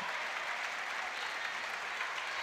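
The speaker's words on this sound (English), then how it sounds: "to clap their opponents onto the stage." Steady, dense applause from a team at a women's under-20 cup final as they clap their opponents onto the stage, continuous and fairly loud throughout.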